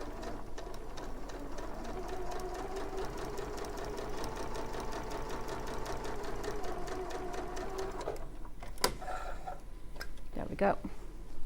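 Sewing machine with a 1/4 inch foot stitching quilt kit fabric, a continuous rapid mechanical chatter for about eight seconds that then stops, leaving faint handling clicks.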